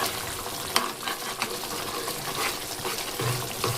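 Mustard oil is poured over fish simmering in a pan and spread across it, producing a bubbling, watery sizzle with a few sharp splashes and clinks, close up and with no talk.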